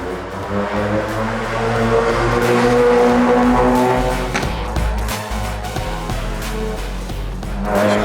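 Peugeot 308 TCR race car accelerating away, a loud engine note building then fading with road and tyre noise, no talk.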